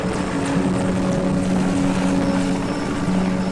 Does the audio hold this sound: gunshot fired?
no